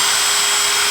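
Power drill spinning sandpaper against rusty brake pad pins on a 1978 Honda CB400A Hondamatic motorcycle, a steady close high-pitched whine held throughout without pause.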